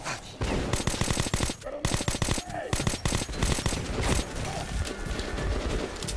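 Sustained automatic gunfire in the video game Metro 2033, loud and close, with rapid bursts of rattling shots and brief pauses, dense and continuous throughout.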